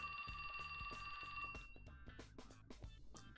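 A mobile phone rings in an anime-style mystery game, a bright repeating electronic tone that pulses rapidly for the first half, then gives way to a rhythmic percussive pattern, faint and with no talking.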